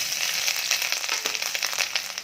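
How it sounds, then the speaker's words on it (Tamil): Grated coconut frying with dried red chillies in a little hot oil in a kadai for a Tamil thogayal, a steady bright sizzle with fine crackles throughout, close and alone. "இப்போ தேங்காய் சேர்த்துக்கிறேன்"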